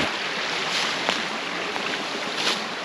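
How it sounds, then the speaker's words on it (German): Water rushes and splashes in a stream running through a quiet valley, a steady broadband roar with small splashes breaking through and no voices. "Es rauscht und plätschert."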